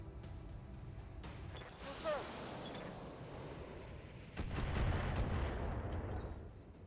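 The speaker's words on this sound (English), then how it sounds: "finally I can shoot something with the missiles" Missile salvo from a mech in the video game Battletech: a brief whooshing launch followed by heavier rumbling impacts, fairly loud within a game soundscape.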